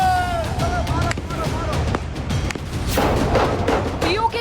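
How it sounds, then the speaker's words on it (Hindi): Gunfire aimed at protesters in Pakistan-occupied Kashmir bursts out in dense, rapid cracks and booms that go on throughout, mixed with a loud, chaotic crowd din. "पीओके की निर्दोष लोगों पर गोलियां बरस रही हैं।"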